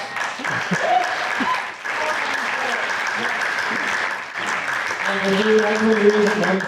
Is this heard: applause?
yes